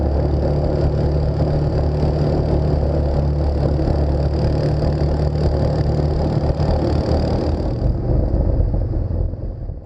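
Quad ATVs riding in tandem along a rebuilt gravel logging road, steady low engine drone with continuous rumble and crunch, loud and close throughout, easing slightly near the end.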